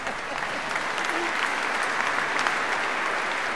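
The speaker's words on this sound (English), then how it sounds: "but let's give them an applause" Audience applause at an award ceremony, a steady dense wash of many hands clapping throughout, moderately loud and even, with no talk over it.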